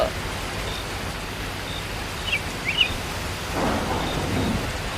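A night thunderstorm with steady broadband rain hiss throughout, a few faint high chirps midway, and a low rolling thunder rumble building near the end.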